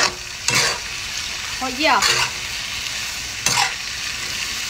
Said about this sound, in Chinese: 虾尾搞里头啊，咱们翻炒两下，给它炒一炒